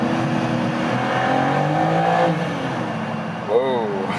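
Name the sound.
performance coupé engine revving on downshift in tunnel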